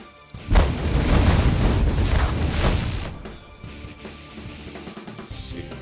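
Heavy weapons fire and impacts on ship shields in the space strategy game The Last Federation, a loud dense rumbling barrage of booms lasting a few seconds before thinning into quieter scattered hits and hum.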